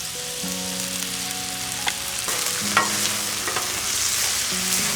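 Steak and chicken sizzle loudly on a Blackstone griddle as teriyaki sauce is added, a steady close frying hiss with occasional scrapes and taps of a spatula, no voices.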